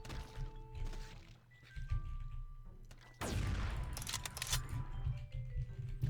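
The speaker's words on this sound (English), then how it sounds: "That was a satisfying explosion in the distance." Distant explosion in a modded Doom map, a sudden broad crash landing midway after quieter game tones and thuds, then a sustained rumbling tail under scattered effects.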